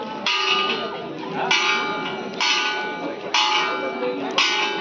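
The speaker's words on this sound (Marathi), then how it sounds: "घंटा वाजवू जा." A temple bell at Dandoba temple struck about five times in a slow, uneven rhythm, each bright metallic clang ringing on until the next strike, loud and close.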